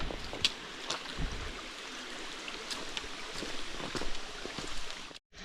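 Creek water flows steadily along the Georgia Pinhoti Trail at a trail crossing, a close, continuous rushing wash with a few brief clicks.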